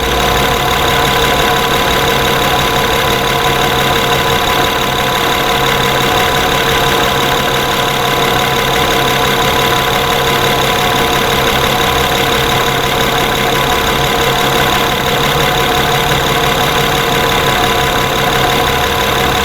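A 2011 Honda Pilot engine idles loudly and continuously, its steady droning running without a break. The surging fault shows no obvious rise and fall.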